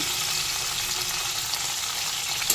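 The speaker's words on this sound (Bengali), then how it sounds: "ওই তেলের মধ্যে ফুলকপি দিয়ে দিলাম টুকরো করে কেটে রাখা আলু" Cauliflower florets and cut potatoes fry in the oil left from frying fish for a katla curry. A steady, close crackling sizzle runs throughout, with a small clatter near the end.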